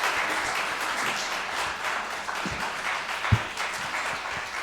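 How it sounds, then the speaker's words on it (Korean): A church congregation applauding steadily during a worship service, a dense wash of many hands clapping at moderate distance, with a few louder low thumps along the way. "우리 하나님께 영광의 박수 올려드리도록 하겠습니다"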